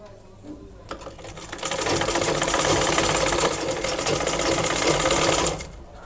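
Electric sewing machine stitching a khimar hijab sleeve seam, a steady close whirring run of rapid needle strokes lasting several seconds after a brief start, then stopping.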